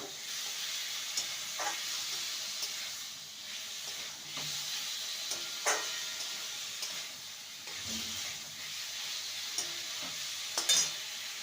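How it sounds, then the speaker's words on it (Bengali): Fried taro root pieces being stirred with spices in a pan, a soft steady hiss with occasional scraping strokes, quiet and close, with no talking. "মশলার সাথে কচুকে ভালো করে নেড়ে নিয়েছি"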